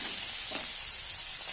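Shrimp sizzles in hot oil in a wok, a dense, steady, close-up frying hiss that holds for a brief moment with no one speaking.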